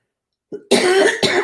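A single close, harsh cough bursts out after a faint breath, followed by a second shorter cough right after; no talking.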